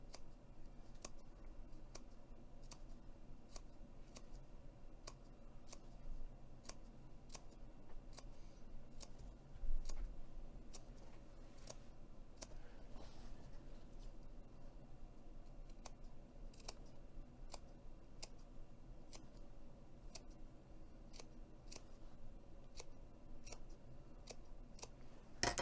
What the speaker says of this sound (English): cut a little V about halfway into the seam allowance